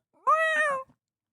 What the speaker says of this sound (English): I'm watching with my cat. She said meow meow.